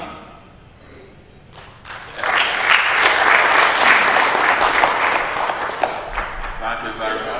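An audience at an international remote sensing conference breaks into loud, sustained applause after a quiet start, many hands clapping together for several seconds.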